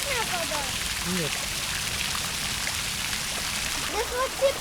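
Water flows and trickles steadily in a city stream during an outdoor walk, a constant close splashing wash with a few chirping birdlike calls over it.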